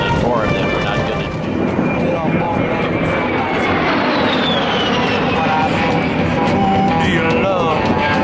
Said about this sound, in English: And now in the photo pass, the Arizona wing of the Commemorative Air Force is the sentimental journey.